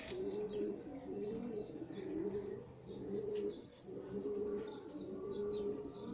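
Homing pigeons coo in repeated, rolling low phrases close by, while faint chirps flutter above them throughout.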